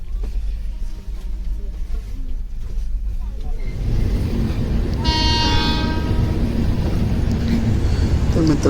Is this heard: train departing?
yes